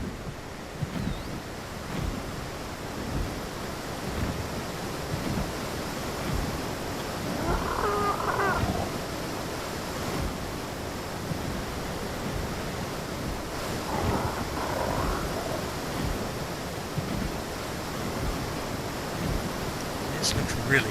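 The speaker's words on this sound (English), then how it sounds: "Nice little mist off the waterfall." A waterfall roars on the Lost Island in ARK: Survival Evolved, a broad, steady rushing wash with faint wind, holding even throughout with a couple of brief swells and soft game sounds.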